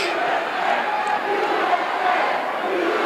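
A classic professional wrestling arena crowd roars and cheers during a Texas Death coffin match, a loud, sustained wall of voices swelling slightly, with no clear individual speech.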